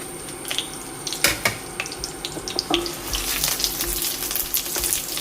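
Dried red chillies frying in oil on a low flame, a bright continuous sizzle and crackle with scattered spatter pops and a few utensil knocks, heard close and alone.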